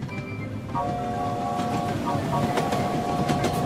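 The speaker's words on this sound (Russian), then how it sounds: "А вот и поезд с вагонами." Cartoon freight train with six wagons sounds a steady, fairly loud tonal horn note over rumbling rail noise with clickety-clack, while a voice speaks briefly beneath.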